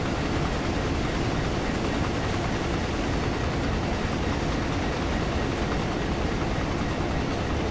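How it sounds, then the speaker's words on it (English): A diesel-electric train in Train Sim World slowing under braking, a steady loud rumbling roar of engine and rolling wheels with no letup, alone without talk. "The momentum is such that it's taken a long time for the train to bring its speed back down."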